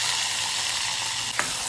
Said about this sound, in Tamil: போட்டாச்சு, நல்லா பொரிக்கிறது.